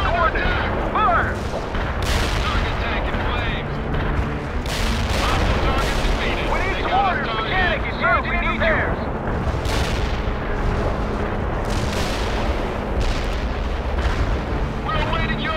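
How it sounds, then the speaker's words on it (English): Heavy artillery in the war game World in Conflict fires in a dense, continuous barrage of booms and blasts, loud and close, with scattered sharp impacts and radio-style voices talking over the shelling. "Heavy artillery. Receive coordinates. Fire."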